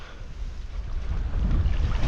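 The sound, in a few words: strong wind blowing on a lake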